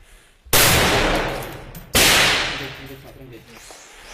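Two loud gunshots, fired about a second and a half apart during urban combat in the battle of Marawi, each with a sharp crack and a long rolling echo.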